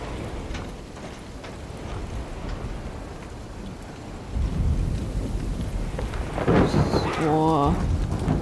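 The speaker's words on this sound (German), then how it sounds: "Schon cool mit dem Gewitter jetzt, sehr stimmungsvoll." Thunderstorm in the horror game Alone in the Dark: heavy rain hisses steadily while a deep rumble of thunder swells midway and stays loud, with a brief tonal sound near the end.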